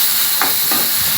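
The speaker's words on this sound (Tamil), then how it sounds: "ஒரு 3 தக்காளி போட்டு நல்லா வதக்கிக்கலாங்க." Tomatoes are sautéed in a pan for a Tamil-style curry, making a loud, steady hiss and sizzle close by, broken by a few soft stirring scrapes.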